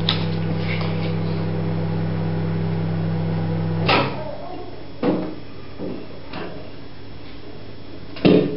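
A microwave oven heating chocolate and butter gives a steady electric hum for about four seconds, then stops. A few close clicks and knocks follow as the door is opened and the bowl is handled.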